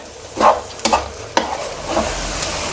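Oyster omelette batter with sliced green onions frying in a pan as it is stirred, giving a loud close sizzle with several scraping strokes of a spatula in uneven rhythm.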